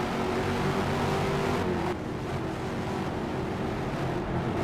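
Race cars in a racing video game drive past as a pack of four, a continuous engine roar with a shift partway through, fairly close and loud, without talk.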